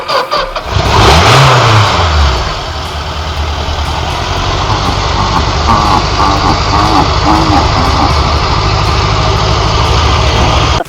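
A Suzuki GSX 750F motorcycle engine cranks and catches, then revs up sharply and settles into a loud, rough idle with uneven throttle blips, heard close up.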